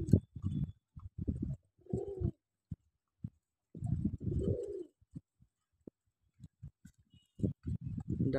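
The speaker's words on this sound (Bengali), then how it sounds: "এই যে একটি নর ডাকতেছে লাল বর্ডারের, এটা হচ্ছে অ্যাডাল্ট। কবুতরের ডাকটা অসম্ভব সুন্দর" Adult male wild pigeon with red markings cooing in repeated soft, low rolling calls, close and clear in a quiet setting, with gaps between bursts.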